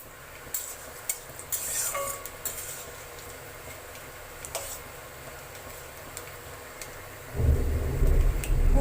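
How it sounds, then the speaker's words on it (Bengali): Heavy monsoon rain pours outside a home kitchen while cooking goes on, a steady hiss with scattered clicks and taps, before a deep, loud rumble of thunder swells in over the final seconds. "বুঝতেই তো পাচ্ছেন মেঘ ডাকছে কীরকমই"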